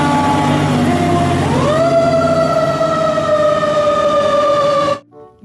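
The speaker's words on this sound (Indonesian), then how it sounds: "Wow, lihat, ada pemadam kebakaran." A loud electronic toy fire truck siren wails steadily, its pitch rising once and then holding, before cutting off abruptly near the end.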